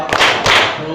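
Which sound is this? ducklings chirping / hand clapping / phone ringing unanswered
hand clapping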